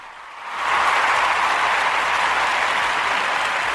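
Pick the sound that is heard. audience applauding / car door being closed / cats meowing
audience applauding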